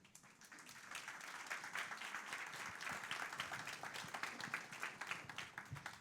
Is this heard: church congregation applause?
yes